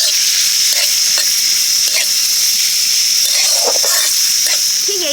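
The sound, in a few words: chopped onion frying in a little white oil in a wok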